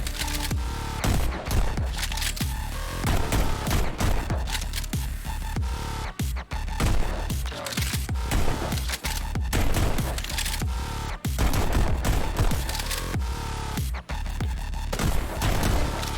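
Video game gunfire: rapid, dense volleys of loud shots and booms crowding nearly the whole stretch, broken by a few brief pauses, with no voices over it.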